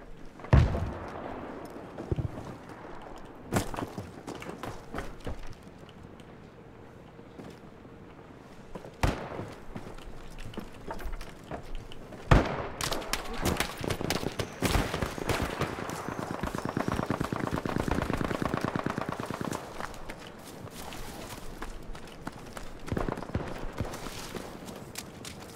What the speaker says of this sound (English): Artillery coming down on them.